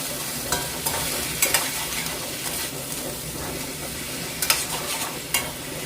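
Green beans with turmeric and salt are stirred in a hot pan, a steady sizzle broken by scraping strokes of the spoon and a few sharper clinks against the pan, close and fairly loud.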